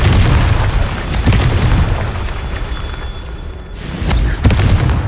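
Confringo spell explosions go off in Hogwarts Legacy, loud, booming bursts with a sharp crack at the start, several of them in a row over sustained rumbling, heard alone without speech.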